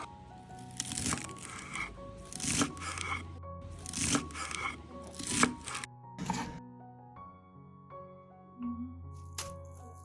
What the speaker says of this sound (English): First, chop the lettuce into bite-sized pieces.